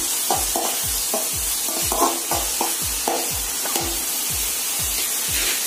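Tomatoes stirred in a hot pan for egg bread burji, with a steady sizzle under a regular rhythm of low thuds and scrapes from the spoon, about two strokes per second, close and clear.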